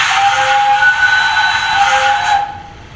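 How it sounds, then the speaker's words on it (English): A loud, steady DCC sound steam whistle from a Rapido S160 OO gauge model locomotive blows continuously for over two seconds with a breathy hiss, then cuts off abruptly into faint residual hiss. "I'm going to press 3 for the whistle, and I'm not going to turn it off"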